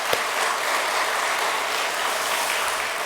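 Steady applause from a church congregation for teachers and staff during a Sunday worship service, dense and even throughout with no talking over it.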